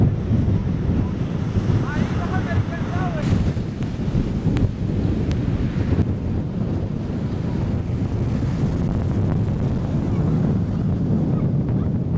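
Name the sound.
wind and rising waves at the sea shore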